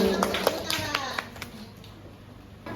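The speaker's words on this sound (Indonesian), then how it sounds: "Tepuk tangan untuk kita semua" Small group clapping hands during a school dissemination session in Indonesia, a brief patter of sparse claps fading out while people keep talking over and after it.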